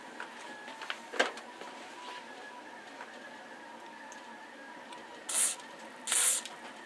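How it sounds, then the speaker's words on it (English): Two short, close hissing bursts of chain lube sprayed onto a 3D printed gear heart come near the end, after a quiet stretch with one faint knock earlier. "Time to lube this up."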